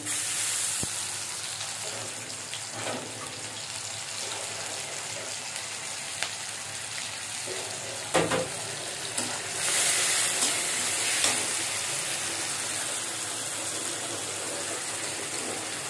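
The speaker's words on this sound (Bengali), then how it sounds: "পেঁয়াজটা একটু ভেজে নিয়েছি। এবার আমি এখানে পরিমাণ মতো রসুন বাটা দিয়ে নেবো।" Sliced onion fries in hot oil with a continuous soft hiss and sizzle as garlic paste is added, with a few sharp spatters and faint clatter along the way.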